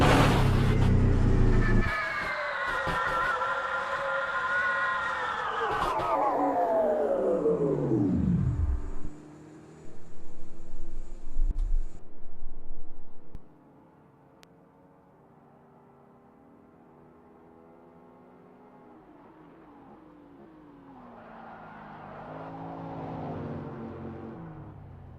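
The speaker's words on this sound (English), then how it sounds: "On board with Ben Borman in the hypercar." A hypercar engine roars on board at Road America in a sim racing game, loud and rising then falling away after about nine seconds, followed by a few more short revving bursts and a quieter low hum.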